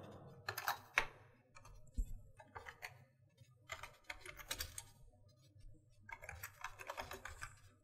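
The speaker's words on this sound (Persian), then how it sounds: "متن مورد نظرم رو تایپ میکنم" Quick bursts of keystrokes on a computer keyboard, close and clear, in irregular runs separated by short pauses.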